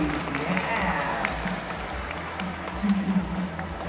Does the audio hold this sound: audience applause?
yes